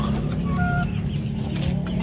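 Chickens clucking steadily nearby, with a few higher calls standing out over a constant low background hum.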